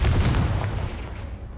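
The Confringo fire spell explodes in the Hogwarts Legacy video game, a booming blast with a heavy low rumble that fades over a second and a half.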